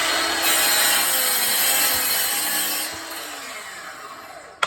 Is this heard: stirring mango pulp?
no